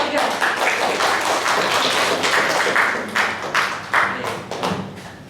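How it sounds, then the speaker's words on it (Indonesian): A classroom claps for a presenting group, a loud burst of hand clapping that fades into several scattered, separate claps and thumps. "Lagi tepuk tangan untuk kelompok 3."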